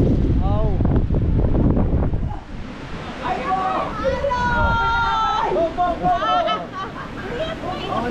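Strong wind roars and buffets the microphone near a tank, with dense low rumble through the first two seconds, then steady gusting noise under excited voices and chatter.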